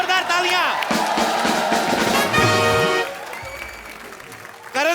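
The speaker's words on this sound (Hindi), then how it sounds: "एक बार करण सर के लिए जोरदार तालियां" A studio audience on The Kapil Sharma Show applauds Karan Johar. Loud clapping and cheering mixed with music and voices runs for about three seconds, then drops away into quieter room sound.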